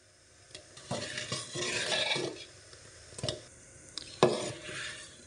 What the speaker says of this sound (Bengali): বাড়িয়ে দিয়ে ভালোভাবে নাড়াচাড়া করে এটাকে রান্না করে নিচ্ছি